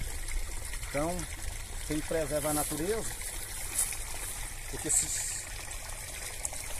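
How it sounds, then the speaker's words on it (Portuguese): Spring water trickles and runs steadily from a source in the cerrado near Patrocínio, Minas Gerais. It makes a continuous watery babble beneath someone speaking Portuguese. "Essa água aqui é mina d'água que nasce pra cima aqui."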